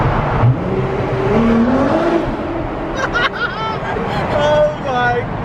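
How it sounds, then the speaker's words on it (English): Nissan GT-R R35 with a custom exhaust pulls hard through a tunnel, a loud, echoing engine roar with rising pitch as it accelerates, mixed with excited voices and laughter inside the car. "The noise is absolutely immense. You can hear the power come through the exhaust"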